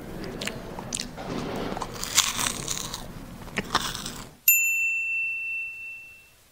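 Crunchy Homerun Ball snacks are eaten up close with crisp bites and chewing for several seconds. A sharp bright ringing chime follows and fades slowly.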